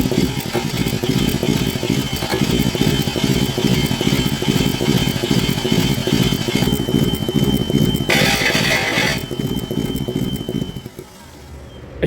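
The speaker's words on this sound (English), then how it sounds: "Let me see if I can set this camera up and turn the engine over." An Infiniti M35 engine with a misfire, cranking and then running with a loud, rough, uneven throb close by for about ten seconds before it cuts out near the end.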